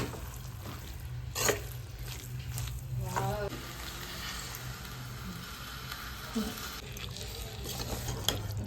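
A spoon scrapes and stirs chicken with masala in a sizzling pan, with wet squelching and occasional clinks against the metal.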